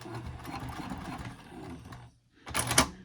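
A sewing machine back stitches a seam on a wristlet clutch, two close bursts of rapid stitching split by a short pause, with no talk.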